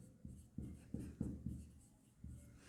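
Pen on paper writing accounting entries for debentures, a faint close scratching in short separate strokes with small pauses between them.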